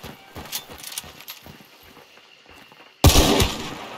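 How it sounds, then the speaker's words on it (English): A grenade goes off in Hunt: Showdown, a sudden loud blast that cuts through quiet footsteps and light clatter, then a short decaying rumble. "you got some of the grenade, didn't you?"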